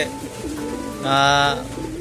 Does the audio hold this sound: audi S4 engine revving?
no